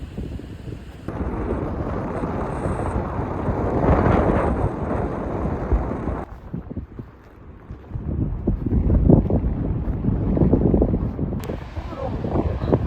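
Strong gusty wind buffets the microphone on a coast in Iceland, a loud continuous roar with surges throughout and a brief lull midway, and voices talk over it.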